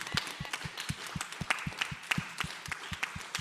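An audience claps steadily at a panel discussion event, a fairly faint, even patter of many hands with no talk.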